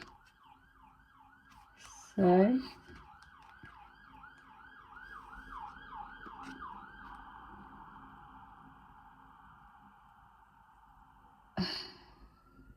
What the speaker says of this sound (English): just even as that siren was going past